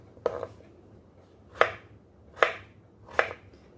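A knife chops potatoes on a cutting board for potato sujebi, four crisp, separate knocks spaced about a second apart, close and fairly quiet against a low background hum.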